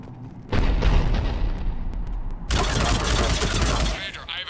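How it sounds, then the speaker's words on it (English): Heavy cannon fire in the sci-fi shooter Mass Effect 3 during a mission to neutralize a planetary bomb, a dense rolling barrage of loud booms and blasts that swells in at half a second and surges again midway before easing off. "The cannon fire is clearing the way."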